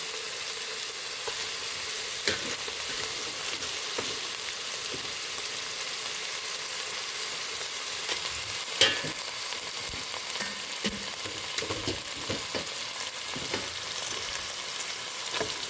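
Ground chicken fries in a pan with a steady, close sizzle and crackle throughout, broken by occasional scrapes and stirring clatter.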